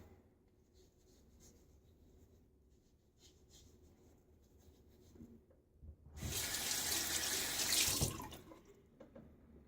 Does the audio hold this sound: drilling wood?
no